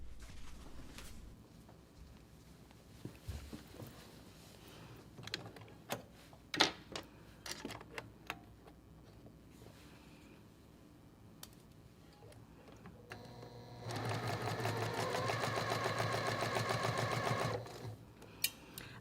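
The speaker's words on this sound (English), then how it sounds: "So now I'm gonna sew 1/4 inch seam down." Quiet handling clicks and taps give way to a sewing machine running a quarter inch seam for several seconds in a steady, rapid mechanical chatter, then stopping, with no speech.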